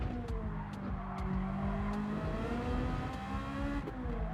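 A tuned Ferrari 430 Scuderia or 458 Italia engine in a racing game on the Nordschleife, droning steadily at high revs with pitch rising and falling as the car holds gear, close and loud with no talk.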